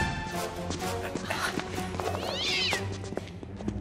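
A cat meows in a French-dubbed family sitcom scene, a short high cry standing out briefly amid busy background sound effects and clatter.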